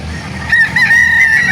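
Roosters and chickens at an early-morning gamefowl market in Calauan, with a loud, sustained crow ringing out over a low murmur of background noise.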